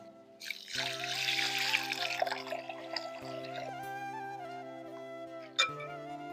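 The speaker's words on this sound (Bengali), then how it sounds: "সাবুদানাটাকে এখন জল দিয়ে পরিষ্কার করে ধুয়ে নেব" Small sago pearls are rinsed in a bowl under running water, a steady trickling and splashing stream with gentle sloshing, fairly close and uninterrupted, a clink near the end.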